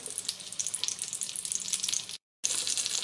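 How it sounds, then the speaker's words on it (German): A breaded ham and cheese cordon bleu with asparagus fries in hot fat, giving a continuous crackling sizzle with bright spatter, close and steady apart from a short silent gap. "Und ich habe schon Fett auf dem Ofen heiß gemacht. Und da drinnen werde ich es jetzt dann backen."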